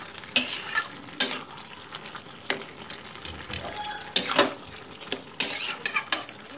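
Gobindobhog rice flour batter stirred into sizzling palong ghyat in a pan, with sharp repeated scrapes and clinks of a metal spoon against the pan over a steady frying hiss.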